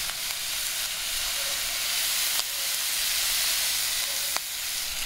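Bacon sizzles and fries in a pan at a camp breakfast beside a Kombi camper van, a steady close hiss that runs through the whole clip with a few brief crackles and pops.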